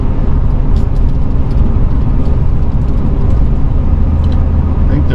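Car cruising through the small Arkansas town of Mena, its engine and road noise a steady, fairly loud rumble throughout with no one talking.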